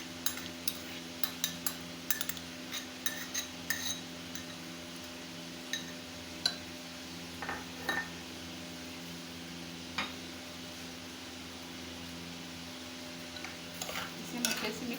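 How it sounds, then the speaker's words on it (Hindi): Spoon stirring spices into previously fried onions in a cooking pot for chicken korma, with soft intermittent scrapes and clinks against the metal over a faint sizzle and steady background hum. "अब ये सारे मसाले हम मिक्स करते हैं।"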